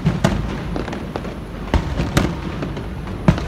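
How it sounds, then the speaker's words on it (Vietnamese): New Year's Eve fireworks explode in the sky, a string of sharp booms and cracks at irregular intervals over a low background rumble, several loud bursts standing out. "Phê, nó đi xem bắn pháo hoa rất là phê các bạn ạ."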